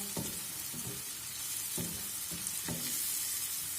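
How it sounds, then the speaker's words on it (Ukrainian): Mushrooms and onion cooking together in a pan, giving a steady soft sizzle with a few clinking stirs of a utensil against the pan at intervals, fairly quiet and close. "Грибочки мої тушаться разом з цибулькою."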